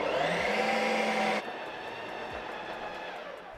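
Ninja Creami ice cream maker running on its ice cream setting, a loud steady whirring motor drone that drops abruptly to a lower, quieter hum partway through, working hard.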